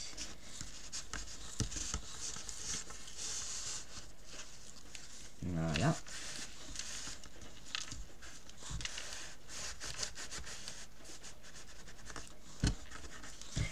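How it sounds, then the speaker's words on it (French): Paper is pressed and rubbed down with a cloth during cardboard bookbinding for a nature album, giving soft intermittent scratchy rubbing strokes close by, with a brief spoken word partway through. "avec un chiffon, ça marche super bien. Je viens appuyer mon papier."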